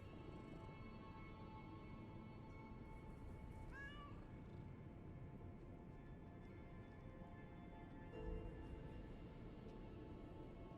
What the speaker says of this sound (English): Cute kitty.